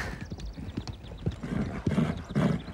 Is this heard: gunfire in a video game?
no